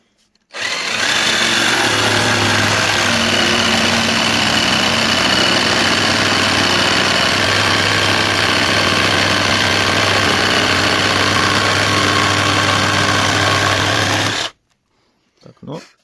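A LEADER Lite BD20-65M cordless jigsaw cuts across the grain of plywood with a T101B blade and the pendulum set to 2. The saw makes a loud, steady, buzzing drone for about fourteen seconds, then stops abruptly and leaves near silence.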